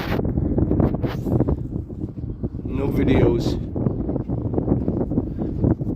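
Strong wind buffets the microphone outdoors beside a parked truck, a loud rumbling gusty roar throughout while someone talks over it.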